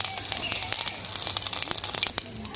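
Whole spices crackle and pop in hot oil in a pan, tempered while cooking a Bengali fish roe dish, with quick, irregular sharp snaps over a soft hiss throughout.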